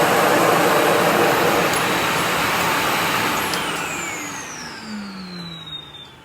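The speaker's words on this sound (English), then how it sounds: "when you bring the vacuum back up, power head turns off" A Sebo Felix upright vacuum cleaner whirs loudly and steadily up close with a broadband motor roar, then winds down and fades as the power head shuts off.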